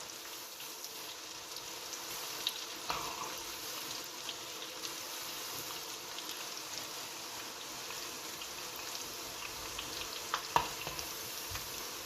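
Chin chin dough fries in hot oil in a pot, giving a steady, dense sizzle with faint scraping and bubbling as it is stirred and turned, continuous and moderately close.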